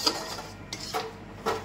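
Bajra flour sukhadi being stirred in a pan, with a few soft scraping and clinking strokes of a utensil against the metal, fairly quiet and spaced apart.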